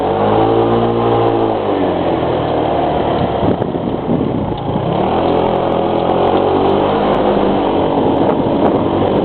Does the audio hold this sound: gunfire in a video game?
no